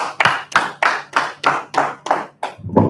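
Eight sharp, evenly spaced hand claps ring out alone, loud and close, during a scripture breakdown class, ending with a brief low rumble.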